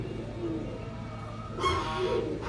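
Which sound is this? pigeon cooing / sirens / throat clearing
pigeon cooing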